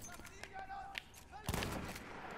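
Shotgun-style gunfire in the video game Battlefield 1, a few sharp blasts with one heavier boom standing out, set against game noise and a voice talking.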